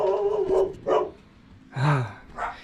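A dog barks in a home workshop during a motorcycle chopper build, four or five close, loud barks in an irregular run with short gaps between them and no talk.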